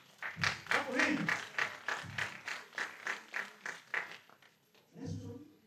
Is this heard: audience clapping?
yes